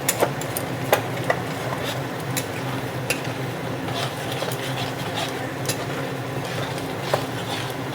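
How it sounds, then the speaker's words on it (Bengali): Spice masala with garam masala and a splash of water is stir-fried in a pan for a spinach, pea and paneer dish, with a soft background sizzle and intermittent light scraping clicks from stirring, fairly quiet and close. "এবার এটাকে ভালো করে কষিয়ে নিতে হবে।"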